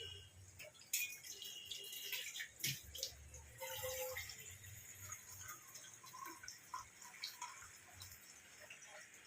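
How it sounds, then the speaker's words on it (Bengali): Water is poured into a pot of lentil dal in a home kitchen, giving faint, irregular splashing and trickling with small clinks, strongest early on and thinning out toward the end. "এবার এতে জল দিয়ে দেবো।"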